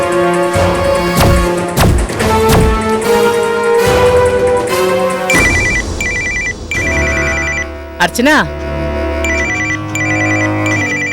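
A telephone ringtone in a Tamil television serial repeats loudly in tonal bursts, then shifts to a different warbling electronic tone, with a brief spoken name in between.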